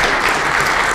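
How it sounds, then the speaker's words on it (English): Audience applause at the close of a technical talk on maintaining bridge coating systems, a steady, dense clapping that carries on evenly throughout the whole second with no voices over it. "Well, let's give Peter a round of applause."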